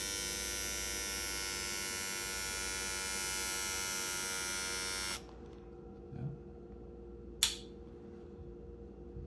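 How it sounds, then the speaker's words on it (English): A close Remington PF7855 electric foil shaver, pop-up trimmer open, buzzes steadily for about five seconds, then cuts off, followed by a couple of faint clicks and handling noises. "Let's turn it on with the trimmer"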